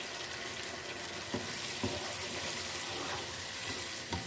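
Water poured into a pan of frying chicken and potatoes, a steady hiss and splash of liquid hitting hot oil with faint stirring knocks, continuous and close, no voices.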